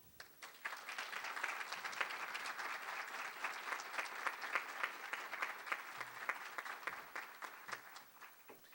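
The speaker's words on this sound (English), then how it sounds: "Give me another round of applause." Sustained applause from an audience, a dense steady wash of clapping that holds at an even level throughout and fades slightly at the end.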